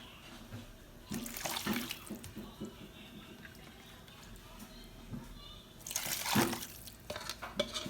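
Water poured into an okpa mixture, with splashing and trickling that comes in two main bursts, along with stirring noises in between.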